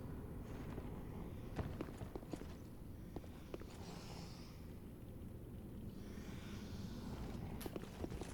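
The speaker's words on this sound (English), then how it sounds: "Especially because I'm hearing footsteps." Footsteps in the video game Dark Souls 3, in the Grand Archives area: a soft, irregular run of light steps thudding over a steady low ambient hum, faint and close, with no talking.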